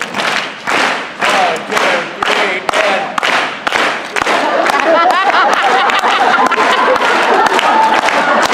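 A live audience claps a steady rhythmic beat, sharp unison claps spaced about half a second apart, with chuckles and crowd noise rising as the clapping thickens into a busier, looser beat.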